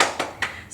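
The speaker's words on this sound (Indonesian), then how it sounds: "Tepuk semangat dulu ya." Classroom of primary pupils doing a rhythmic spirit clap, with two or three sharp, close claps spaced evenly in a short burst and no talking.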